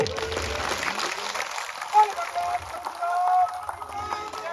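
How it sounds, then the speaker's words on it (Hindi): A crowd claps at a political rally in Haryana, a dense burst of applause that rises and swells, with voices mixed in throughout. "एक जोरदार नरवीर जी के लिए और मुकेश जी के लिए ताली तो बजा दो"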